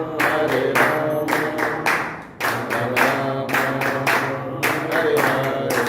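Rhythmic group hand clapping during Hare Krishna devotional chanting, with steady claps coming in quick bursts and brief pauses over a low sung drone, loud and close.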